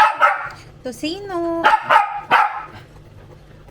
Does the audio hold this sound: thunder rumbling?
no